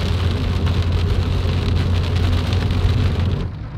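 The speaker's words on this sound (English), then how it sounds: "God, this rain, folks" Heavy rain pours steadily outdoors near a large German bunker in France. It makes a dense, loud hiss with a low rumble underneath, continuous and without speech, and eases slightly in the last moment.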